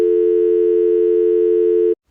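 A steady, loud telephone tone sounds without a break for about two seconds and then cuts off, heard while someone places an emergency call to report an accident.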